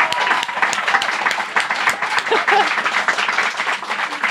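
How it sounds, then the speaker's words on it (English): Steady applause from an audience, many hands clapping in a dense continuous patter with a few faint voices underneath. "I just want to give you a round of applause"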